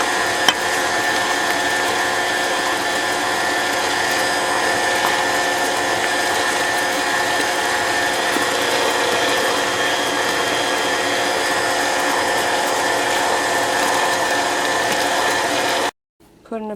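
An electric mixer beating batter for Italian tricolor rainbow cookies, a steady whirring drone with a rattling mechanical texture that runs unbroken for about sixteen seconds before cutting off abruptly.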